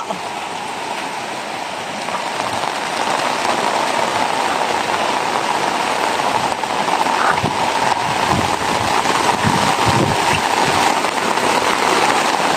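Heavy rain pours down steadily on farmland in a dense, loud roar that builds slightly and never lets up.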